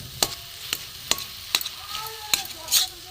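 Mashed boiled green banana being fried and stirred in a pan, with a spoon scraping in several sharp strokes over a soft sizzle, close and moderately loud.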